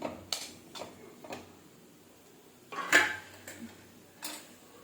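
Spoon working potato paratha filling with spinach in a bowl: a few sharp, sparse clinks and taps of metal against the bowl, quiet and close, with faint scraping between them and no talking.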